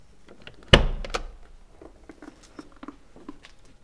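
A rear-hinged door on a 2021 Mercedes G-Class with Hofele Design coachwork is opened. There is a sharp latch clunk and a second click just after it, then faint rustling and small handling noises close by, with no talk.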